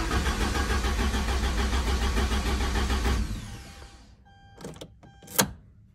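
A Porsche 944 with a no-start fault cranks without firing, a loud, rhythmic churning drone for about three seconds that cuts off, followed by a couple of short mechanical clicks and clunks.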